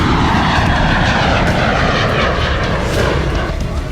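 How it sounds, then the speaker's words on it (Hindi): An airliner on takeoff for a Moscow to St Petersburg flight, its engines roaring loud and steady throughout with a broad, continuous rushing drone. "ठीक ऐसे ही प्लेन ने मॉस्को से सेंट पीटर्सबर्ग के लिए उड़ान भरी"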